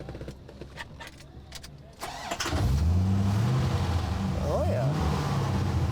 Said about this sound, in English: Let's hear it run. Let's hear those 400 ponies.